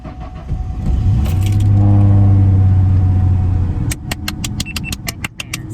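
A car engine roars as it revs up loudly and close, holds, then drops to idle as a rapid series of radar detector clicks and jingles follows.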